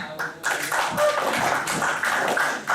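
Steady applause from a seminar audience, a dense patter of many hands clapping that fills the whole moment, with voices mixed in underneath.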